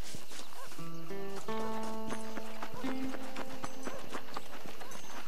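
A tetchy horse in Red Dead Redemption whinnies in a few short tonal bursts over scattered hoof clops and background game sounds, fairly quiet and close.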